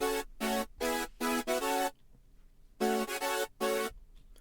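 A hardstyle lead synth's first chord layer, built in FL Studio 20, plays in bright, buzzy stabs: five rhythmic hits, a short gap, then three more, loud and close.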